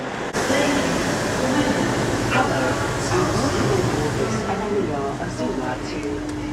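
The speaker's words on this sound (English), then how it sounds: "This train has 9 coaches. And it's coming in." A nine-coach passenger train pulls into a station on the London King's Cross line, a continuous loud rumble and rolling hiss filling the platform.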